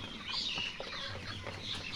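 Broiler chickens cluck on a poultry farm, with scattered soft clucks and chirps against a low, steady background hum, all fairly faint.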